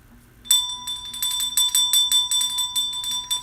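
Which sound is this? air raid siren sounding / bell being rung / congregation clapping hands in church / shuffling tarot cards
bell being rung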